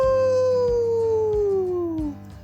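A wolf lets out one long, loud howl that slowly slides down in pitch and cuts off after about two seconds, accompanying a children's story read aloud.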